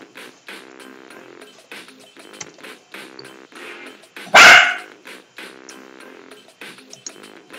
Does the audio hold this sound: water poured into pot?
no